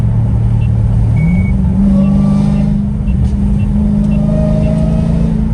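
A straight-piped Dodge Challenger Hellcat Redeye accelerates hard on a freeway on-ramp, its engine rumbling loud and close, then rising in pitch as it revs through the gear.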